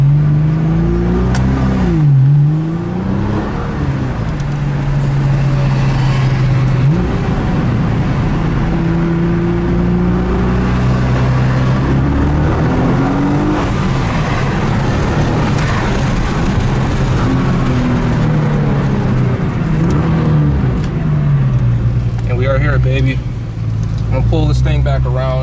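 A Nissan GTR engine revs and pulls as the car accelerates, the pitch climbing and dropping through repeated surges, loud and close inside the cabin with someone talking over it.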